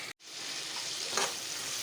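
Prawns with okra fry in a pan, giving a brief, fairly faint, steady sizzling hiss after a short drop-out at the start.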